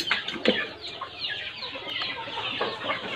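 Local-breed chickens cluck repeatedly at close range on a small farm, irregular overlapping calls from several birds, with one louder burst near the start and no talking.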